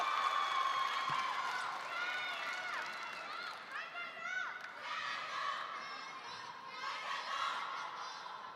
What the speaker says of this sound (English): We got battle chanting in the crowds right now